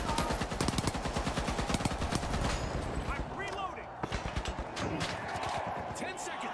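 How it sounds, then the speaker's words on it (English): An M60 machine gun firing in The Finals video game, a long rapid stream of loud, evenly spaced shots with a brief lull, then more bursts. "The 70 bullets of the M60 is so violent"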